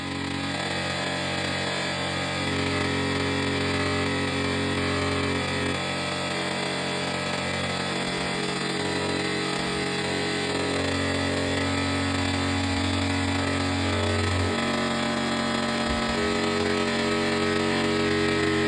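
A Tuomico 25 PSI electric SUP pump for a paddle board running continuously, a loud steady motor drone with humming tones whose pitch shifts slightly as it works, with no talk.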